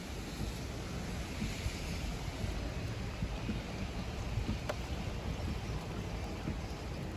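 A car pushes slowly through flood water about a foot deep on a rainy day, a steady broad wash of water rushing and churning around the vehicle that stays at an even level throughout, with no talk.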